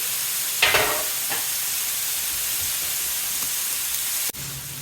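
Carne asada sizzles in two skillets, a steady close frying hiss with a brief louder burst of spatter early on and a sudden drop near the end.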